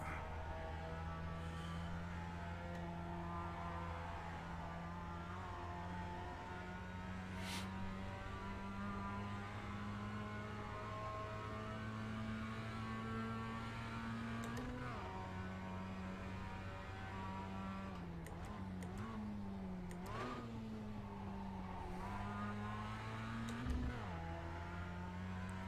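A Mazda MX-5 race car lapping the Belle Isle circuit in Detroit, its engine a steady droning hum whose pitch dips and climbs with gear changes and corners. Heard from inside the car, with no talking.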